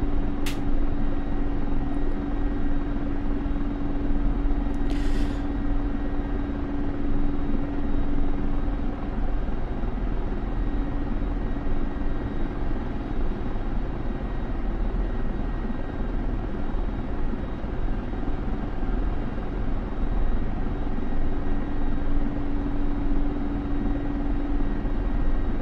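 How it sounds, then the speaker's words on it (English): A Mi-24 Hind helicopter in the DCS flight simulator taxis into a rolling takeoff, its rotor and turbine drone loud and unbroken throughout with a steady tonal hum and no voices. "we're going to try a rolling takeoff, which I haven't really done in a helicopter yet"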